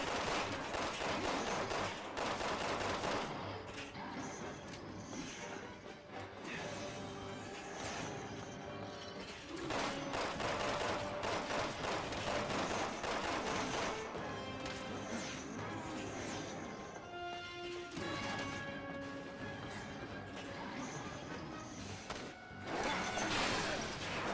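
Rapid gunfire from the video game Resident Evil 6, steady bursts and shots layered over a dense game soundtrack throughout, loud and continuous.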